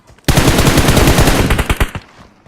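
Loud, rapid automatic gunfire in the video game PUBG rattles in a sustained close burst for over a second, then breaks into a few separate shots before fading.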